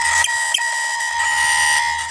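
A small water pump fitted inside a homemade PVC cooler runs with a steady, even electric whine and hum, close and unbroken, with no talking.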